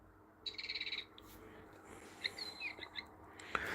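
A few short, high bird chirps and tweets sound sporadically against a quiet room background, faint and close, with no voices.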